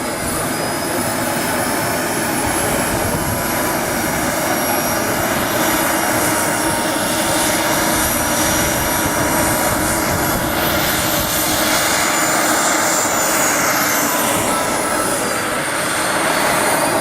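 A radio-controlled model jet airplane with a turbine engine runs at a Hellenic R/C models airshow in Greece, a loud, steady jet roar with a high whine that holds unbroken throughout, no voices.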